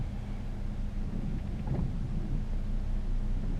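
Rain falls steadily on a car driving at night, a dense wash of noise over the low rumble of the road and engine, constant and unbroken with no talk.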